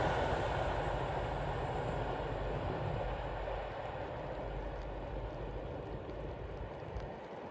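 Class 37 diesel locomotives, with 884 working hard, pass as a test train: a loud, steady broadband engine roar and rumble that holds throughout and eases slightly as the train moves on.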